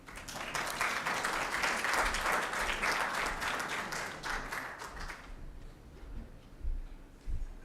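Crowd applause for a presenter at a World Malaria Day event, a dense, loud burst of many hands clapping that fades after about five seconds into quieter room noise with a few scattered claps.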